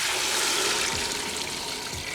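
Water, about four liters, is poured into a soup pot of boiled meat and beef stock cubes for soto Bandung, making a close, steady gushing pour with no talking.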